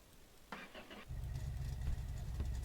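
A vehicle engine starts up and runs steadily at close range while moving a mobile skip with a flat tyre in a garage yard, a low rumble under a brief burst of talk.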